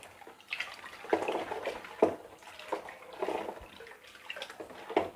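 Water mixed with vinegar, lemon juice and cleaning powder is stirred by hand, giving soft repeated sloshing swirls and splashes at a steady rhythm, close and fairly quiet.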